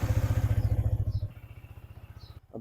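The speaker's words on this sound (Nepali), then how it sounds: "बाइक वार्म गर्नु पऱ्यो नि त" A motorcycle engine warming up, heard close as a loud throbbing idle that softens after about a second into a steady, even putter before cutting out at the end.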